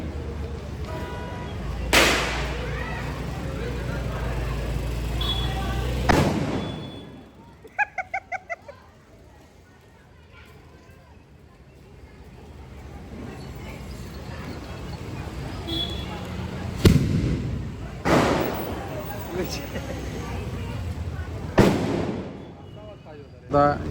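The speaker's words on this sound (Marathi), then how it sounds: "आता हे सुतळी बॉम्ब फोडायचं वगैरे चालू आहे." Sutli bomb firecrackers burst during a Diwali celebration, with several loud booming blasts and a quick string of small cracks, amid outdoor crowd noise and people talking.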